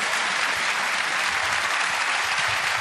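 Steady, sustained applause from a snooker crowd at the Crucible during the World Snooker Championship, a dense wash of clapping that holds at even loudness throughout after a century break.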